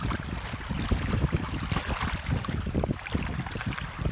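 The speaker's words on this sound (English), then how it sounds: "the wind's pretty stiff tonight. A little stiff breeze." Stiff evening breeze blowing across a beach, gusting and buffeting the microphone in uneven rumbling bursts with a broad airy hiss over it, loud and close, with no voices.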